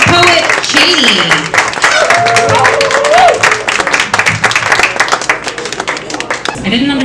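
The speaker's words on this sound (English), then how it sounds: "Good applause going for our next competing poet" Claps and applause ripple through a poetry night audience in Pittsburgh as a competing poet is welcomed, sustained rapid hand claps running beneath a speaking voice.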